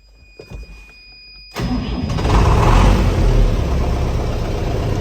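Nothing but quiet clicks at first. Then an MTZ tractor engine cranks and catches, settling into a loud, steady running rumble close by.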